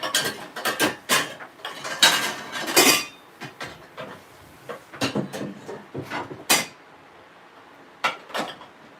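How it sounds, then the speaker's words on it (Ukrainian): A plate taken out and handled, giving a series of close clinks, scrapes and clattering knocks of crockery and kitchenware, irregular and bursty with short pauses between. "Так, я беру тарелку."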